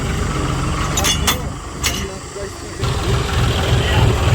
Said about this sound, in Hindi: अब आ चुका मात्र 36 एचपी का जॉन डियर का 50-36।